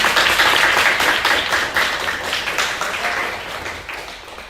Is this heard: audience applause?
yes